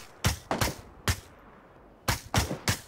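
Gunfire in a shooter video game: sharp, close single shots and quick pairs with short pauses between them, loud against a quiet background.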